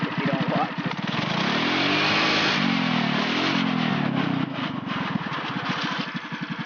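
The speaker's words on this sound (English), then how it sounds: "you gotta limit yourself on how much you rev the shit out of this thing" Small single-cylinder engine on a mini-baja revving hard, its loud, close buzz rising and falling in pitch through several throttle sweeps before settling into a rough, pulsing idle.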